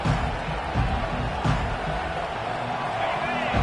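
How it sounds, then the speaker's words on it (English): Roaring crowd noise fills a Georgia Southern at Georgia Tech college football game as the offense is pinned deep after a punt, a dense steady din of cheering and shouting under a commentator's voice. "They've got him pinned back, and they're trying to rattle their eardrums. Listen to this crowd."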